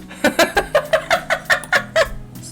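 A duck in The Sims 4 quacks about ten times in a quick, steady run of loud, close calls, with no talking.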